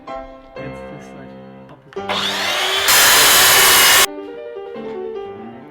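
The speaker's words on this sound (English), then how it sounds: "we drilled holes and screwed it all together" A power drill bores into long wooden planks for a table support frame, a loud grinding burst of about two seconds that rises over background music.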